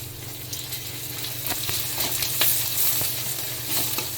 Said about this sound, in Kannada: ಒಂಚೂರು ಜಿಂಜರ್ ಗಾರ್ಲಿಕ್ ಪೇಸ್ಟ್ ಹಾಕ್ಕೊತಾ ಇದ್ದೀನಿ